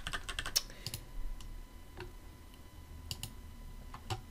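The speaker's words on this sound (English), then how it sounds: "just type in some random stuff" A computer keyboard is tapped in quick irregular bursts of clicks, close and clear, with brief gaps and no talking.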